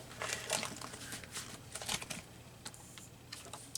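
A card tears out of a junk journal with close, papery rips and crinkles that come in short bursts, quiet and with no talking.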